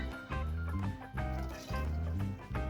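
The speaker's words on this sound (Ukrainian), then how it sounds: "І тепер її заливаємо водою, яку перед тим ми перекип'ятили і охолонули." Boiled, cooled water pours onto ground strawberries with sugar in a container, a soft gurgling, splashing stream that comes in several short pours.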